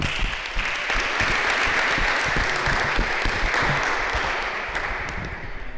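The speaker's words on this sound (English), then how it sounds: "And a round of applause to all of you." Spectators at a racquetball tournament doubles final give a sustained round of applause, a dense, steady clatter of many hands that eases slightly toward the end.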